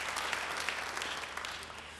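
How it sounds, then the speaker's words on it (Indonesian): Applause from a church congregation during a sermon, a steady dense wash of many hands clapping at moderate distance, continuing evenly for a couple of seconds with no talking over it. "Beri tepuk tangan yang baik bagi Dia."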